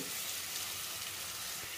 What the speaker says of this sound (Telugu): ఇందులోకి కొంచెం నువ్వులు అయితే వేసుకోవాలి